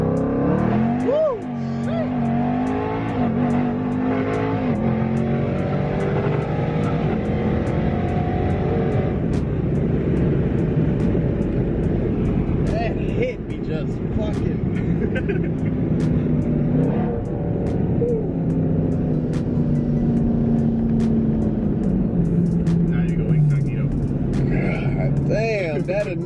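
Built Jeep Trackhawk engine pulling hard on a Mexican road, a loud continuous rising and falling roar that dominates throughout, with people talking over it.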